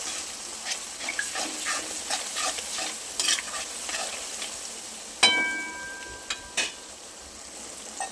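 Ground turmeric, coriander-cumin powder and salt are stirred in hot oil in a pan for vegetable masala khichdi, giving soft steady scraping and sizzling strokes, then a few sharper metallic clinks, with no voices.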